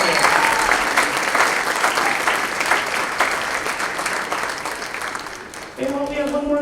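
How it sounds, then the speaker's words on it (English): Applause for a 7th grade school band at a winter band concert, a full audience clapping steadily and loudly, then tapering off as a voice begins speaking near the end. "Give us 7th grade band another round of applause."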